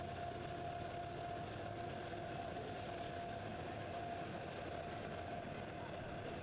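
A train rolling along tracks beside the Monongahela River in Pittsburgh, a steady continuous rumble with a faint tonal hum, heard behind a soccer broadcast commentator's voice.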